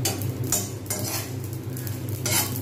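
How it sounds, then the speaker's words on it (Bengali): Dried red chillies, whole cumin and fenugreek seeds fry in hot oil, giving a steady close crackle and sizzle with brief louder bursts of popping, no voices. "একটা সুন্দর এক ফটফট করে একটা আওয়াজ হচ্ছে। লঙ্কাগুলো ভাজা হয়ে যাবে।"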